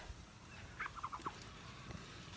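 A short burst of soft, rapid calls from Muscovy ducks, a few quick chirps in a row, faint against a quiet farm background.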